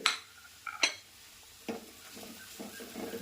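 Turmeric and coriander powder being added to softened onions in a pan and stirred, a few clinking taps of a spoon against the metal pan followed by soft scraping strokes, faint and close with no talk.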